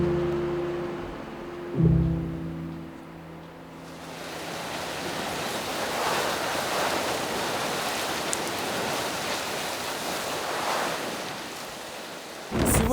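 Strong wind roaring over crashing ocean waves on the Kamchatka coast during a thunderstorm, a dense, continuous loud wash with a sharp thump early on and gusts buffeting the microphone.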